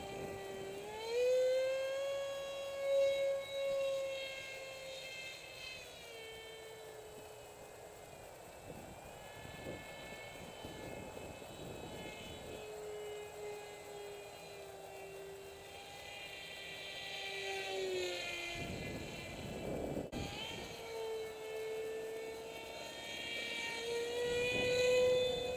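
RC F-18 model jet with a 7x4 propeller and thrust vectoring flying overhead in wind, a thin whining motor tone that rises and falls in pitch as it passes near and away.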